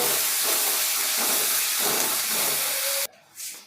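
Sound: garlic, ginger and green chili paste frying with onions

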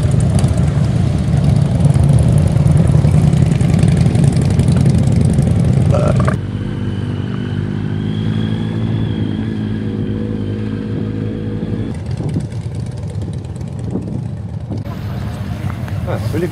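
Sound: motorcycles rolling in and revving

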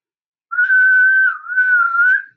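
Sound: person whistling, mimicking a Sasquatch whistle

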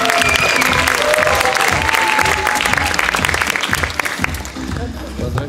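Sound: audience applause

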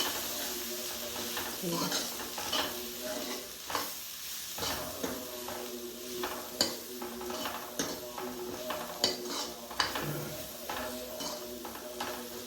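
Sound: spice tempering sizzling in pan

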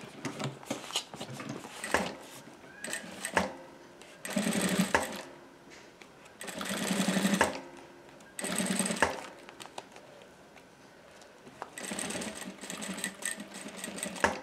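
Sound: sewing machine stitching around a transparent cosmetic bag

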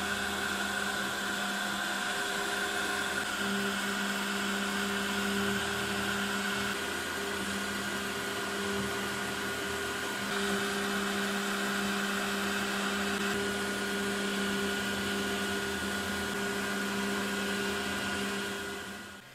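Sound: CNC end mill cutting with dust vacuum

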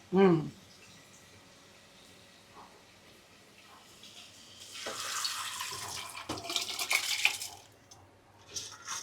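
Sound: water being poured onto old rice for cooking

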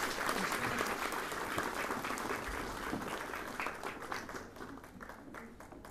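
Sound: audience applause

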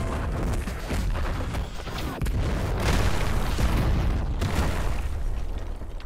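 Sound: explosion combo finisher attack in Heroes Battlegrounds video game

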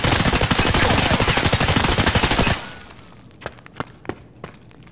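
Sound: M4 rifle burst fire in video game Escape From Tarkov

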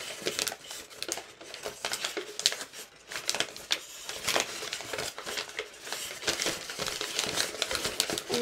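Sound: folding paper for an origami wasp

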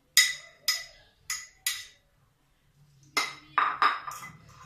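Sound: mixing potato and chicken croquette mixture with egg in a bowl

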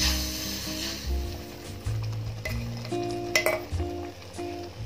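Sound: stirring semolina into boiling pineapple juice mixture in pan

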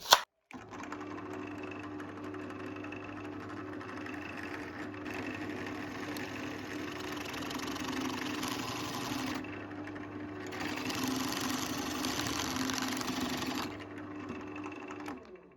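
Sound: drilling a hole in a wooden part

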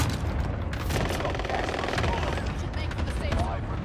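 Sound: rocket strike explosions and gunfire in a video game

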